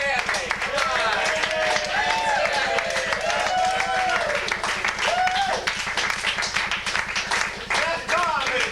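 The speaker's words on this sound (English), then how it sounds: "Let's give a round of applause to B. Stanley." An audience at an improv jam claps for a performer, a steady, fast patter of hands carrying on under loud talking and murmuring voices throughout.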